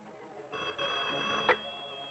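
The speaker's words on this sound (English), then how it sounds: "Look, the phone just rang twice" An indoor telephone rings with a steady electronic tone, sounding close and fairly loud against a busy background.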